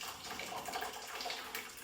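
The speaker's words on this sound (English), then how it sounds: "Once you get the rice, make sure you drain it off the water." Water draining off cooked rice for shrimp fried rice, a soft continuous splashing and trickling close by, quiet and steady for under two seconds.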